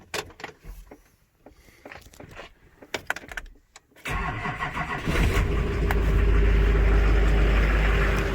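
A 2005 Duramax diesel truck engine turns over on a cold start and catches with a loud, steady rumble that settles into a sustained idle. Some clicks and shuffling come first, with no talking.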